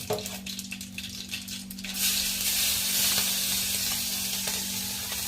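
Mustard seeds temper in hot oil in a kitchen pan, a loud sizzle that bursts up after light clinks and keeps crackling steadily, close by.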